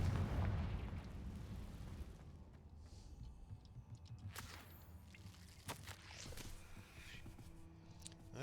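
Hogwarts Legacy's Confringo spell detonates with a heavy explosive boom at the start, fading into rumbling debris, then sharp crackling snaps and pops scattered over the following seconds.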